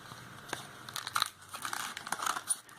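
Cardboard packaging around a 3.5mm audio splitter cable being handled and unwrapped, giving soft close crinkles and rustles with a few sharper crackles over about three seconds.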